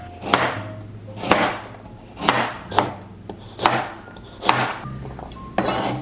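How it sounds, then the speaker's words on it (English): A knife dices carrots on a cutting board for broccoli cheddar soup, making six sharp, evenly spaced chops about a second apart, close and clear with no talking. "we're gonna start by dicing up our carrots"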